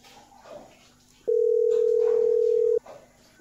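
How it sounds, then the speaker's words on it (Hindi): A phone tone sounds as one loud, steady beep lasting about a second and a half, framed by quieter background noise before and after. "अरे राघव का फोन यहाँ कहाँ बज रहा है?"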